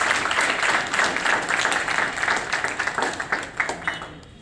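Children clap together at a school road safety month event. The steady, dense applause thins into scattered, separate claps toward the end.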